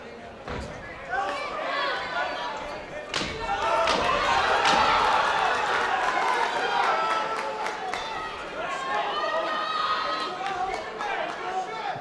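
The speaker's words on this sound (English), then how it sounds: "Crowd still making a lot of noise here." A boxing crowd at a fight night in Bolton gives off a loud, continuous roar and chatter, with thuds and slaps from the ring cutting through and a commentator talking over it all.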